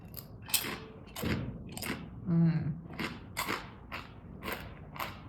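Someone bites into and chews a crunchy chip up close, giving sharp, loud crunches roughly once a second in a steady chewing rhythm.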